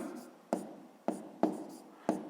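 Chalk taps and scratches on a board while math is written out, four sharp strikes spaced about half a second apart, each followed by a short fading scrape, close and fairly quiet.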